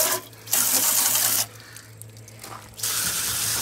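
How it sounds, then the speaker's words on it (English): Water streams onto a Fedders Weather Wheel air conditioner during cleaning, a close hissing spray that runs in bursts with short quieter gaps between them. "I'm just gonna give it a obvious quick rinse down first to get it started."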